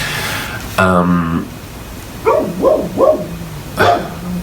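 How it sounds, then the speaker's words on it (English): A neighbor's dog barks nearby: one long bark followed by a quick run of three yappy barks and a final bark, loud and close, with no talk over them. "that's the neighbor's dog."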